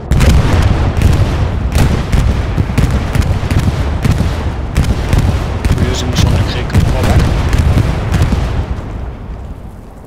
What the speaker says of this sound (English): Friendly bombing run.